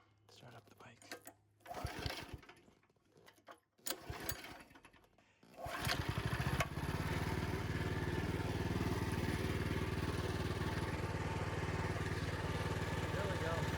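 A minibike engine on a farm starts up after a few rough cranks and then runs steadily and loudly at close range, a continuous buzzing drone that holds through to the end.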